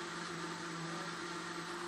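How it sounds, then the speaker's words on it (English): A blender whirs steadily while blending homemade cough candy vodka, a constant, fairly faint motor whine with no pause over the short stretch. "Good thing with this blender is it gets all the bits."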